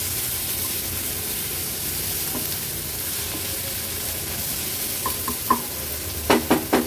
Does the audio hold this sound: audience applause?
no